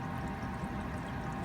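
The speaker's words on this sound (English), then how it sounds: "So that turns the Sporlan valve on, and it's filling the water tanks." Water runs steadily as a pump fills an RV's fresh water tanks, a continuous rushing, pouring flow with no breaks and no voices.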